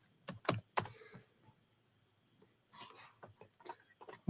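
Quick clusters of computer keyboard keystrokes, close and crisp, come in two short bursts separated by a quiet pause, with no one talking.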